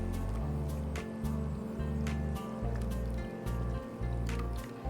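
Millet soup seasoned with salt and turmeric is stirred in a pot, giving soft wet squishing and sloshing strokes in a steady rhythm, close and fairly quiet.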